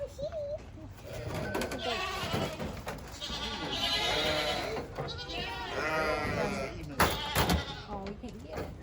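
Baby goats bleating repeatedly in a petting area at a rain forest attraction, several overlapping calls near and far, with people talking throughout.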